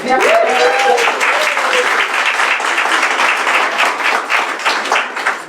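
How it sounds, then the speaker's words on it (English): Sustained audience applause for award winners, a dense, steady wash of clapping from many hands, with a voice briefly audible near the start. "So a massive round of applause to Jen, Sue, Malcolm and the team"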